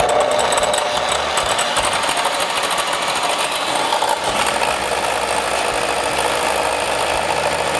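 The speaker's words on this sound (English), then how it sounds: "you must always beat your egg whites with clean, dry whisk to make them rise properly" An electric mixer whisks egg whites toward soft peaks, giving a continuous, loud buzzing whir with a busy rattle that holds steady for several seconds with no talk.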